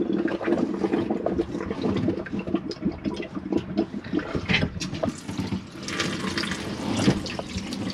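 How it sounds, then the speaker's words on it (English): A tap runs in a Swift Escape 696 motorhome, water gushing steadily into the sink at close range for the whole stretch with no talk. "That's your tap running."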